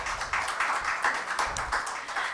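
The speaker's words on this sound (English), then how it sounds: "Can we give them a big round of applause?" Audience applause for poets at a literature and art festival in Bhopal, scattered clapping hands with distinct individual claps, moderately faint and uneven.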